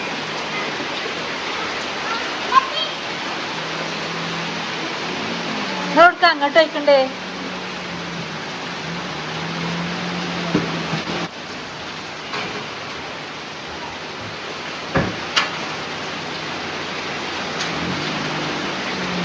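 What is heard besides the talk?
heavy rain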